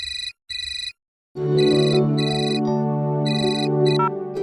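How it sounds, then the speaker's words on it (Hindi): A telephone rings in a domestic setting, two short bursts of a double-tone ring followed by a sustained musical bed with the ringing tone repeating over it, fairly loud and close. "हेलो, हाँ एक मिनट, आपका फोन है।"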